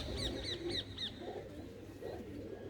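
Pigeons at a rooftop loft coo softly nearby, mixed with a quick series of four sharp chirps early on.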